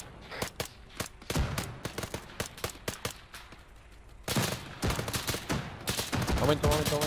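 Airsoft gunfire during a field operation: rapid sharp shots in irregular bursts and single cracks, close and loud, building into denser volleys toward the end, with brief radio-style talk in the background.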